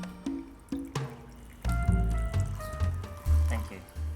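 Whiskey poured into a glass during a drinks scene in Mumbai, a short liquid fill with dripping and trickling, heard under close, overlapping conversation with pauses and rising tones.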